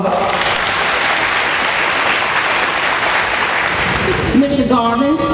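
Audience applause at a high school graduation ceremony, a loud, dense wash of clapping that fills the hall steadily before a voice starts speaking over it near the end.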